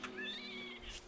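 A cat meows once, close and clear, in the survival game Don't Starve Together, a short rising then falling call with no talk.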